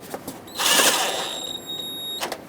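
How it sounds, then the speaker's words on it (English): Hose clamps on a rubber radiator fan shroud of a 2008-2010 Ford F-250 Super Duty 5.4L V8 being snugged with an 8mm driver, a loud whirring, squealing tool burst of about a second and a half with a sustained high whine, then quieter clicks. "Hold this in position and snug up the clamps."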